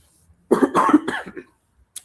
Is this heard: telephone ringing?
no